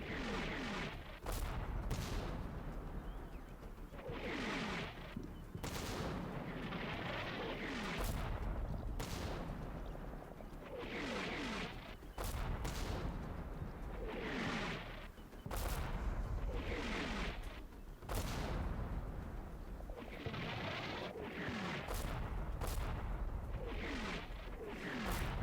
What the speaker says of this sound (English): Mortars are right on target.